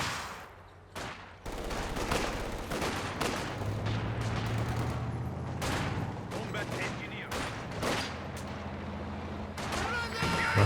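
Machine gun fire rattles from a building during a Company of Heroes 2 battle, with sharp bursts and blasts recurring over a busy combat din while a commentator talks throughout.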